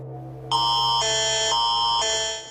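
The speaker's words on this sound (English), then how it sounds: "The alarm went off just after 6:30, waking up many Calgarians with an ask to skip the morning shower" A city emergency alert for the water supply in Calgary sounds as a loud electronic tone that steps between pitches in a repeating pattern over about two seconds, over a low hum.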